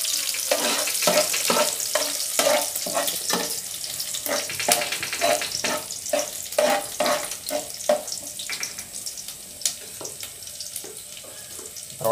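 Curry leaves and kokum being sautéed with ground masala for a Konkani-style prawn curry over a wood-fired clay stove, with a bright hiss and irregular scraping stirs of the spoon in the pan, close and fairly loud.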